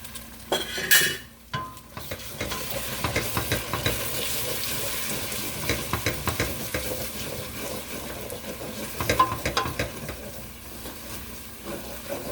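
Egg scrambled into Maggi noodles in a pan, with a soft continuous sizzle under repeated scraping and stirring clicks of a utensil against the pan, close and steady without speech.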